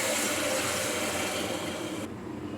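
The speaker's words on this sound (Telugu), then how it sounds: "వాటర్ యాడ్ చేసుకున్నాం." Water pours steadily into a cooking pot of soaked rice for Telangana-style bagara rice, a soft continuous splashing rush that stops abruptly near the end.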